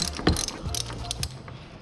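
A hand ratchet clicks in short, quick bursts while loosening the oil drain plug on a Lexus RC F, close and distinct, with a few metallic pawl clicks in under two seconds.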